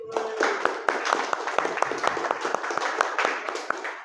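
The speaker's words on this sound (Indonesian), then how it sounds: "Tepuk tangan buat Saripudin." A classroom of students claps for a classmate with quick, sharp, fairly sparse hand claps, close and lively, sustained for several seconds.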